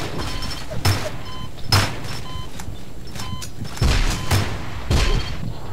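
Gunfire and grenade blasts in the online shooter game Ballistic, with several sharp broadband bursts at intervals over a steady low rumble of game noise.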